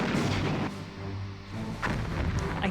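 Torpedoes firing in a Star Trek video game, heavy booming blasts up close, one burst at the start and another near the end with a rumbling lull between.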